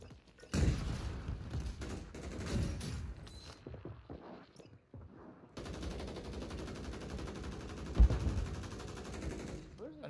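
Rapid bursts of automatic gunfire in a battle royale video game's Plunder mode, dense rattling volleys with a brief lull midway before the firing resumes, loud and close.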